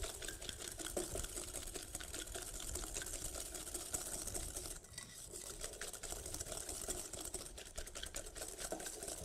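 A whisk beats cookie dough in a bowl with a steady, fast, scraping rhythm. The sound is continuous and close, with a brief dip midway and no talking.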